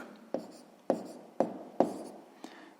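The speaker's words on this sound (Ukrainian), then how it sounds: "Ну що ж, записуємо мінус." Pen or pencil writing by hand on paper while working a sixth-grade math exercise, with five distinct scratchy strokes spaced roughly half a second apart, close and fairly quiet, with no talking.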